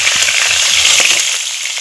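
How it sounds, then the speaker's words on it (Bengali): Pabda fish frying lightly in hot oil for a mustard pabda curry, giving a steady close sizzle with faint crackles and spits throughout, no voices. "এই মাছগুলো ভাজা হয়ে গেছে আর বাকি যে মাছগুলো আছে এগুলো আমি এইভাবেই ভেজে নেব"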